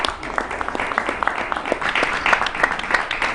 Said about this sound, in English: I think we should clap to the government.